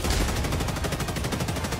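Rapid autocannon fire in Helldivers 2 on the Automaton front, a dense, steady stream of heavy rounds cracking in quick rhythm, loud and continuous for the whole stretch.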